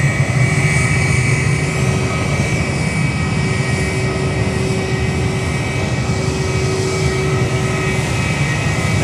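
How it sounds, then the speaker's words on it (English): Airliner departing Sydney Airport, heard from Shep's Mound as a loud, continuous jet roar with steady engine tones, close and unobstructed, with no voices over it. "It's almost a completely unobstructed sound here of those departures."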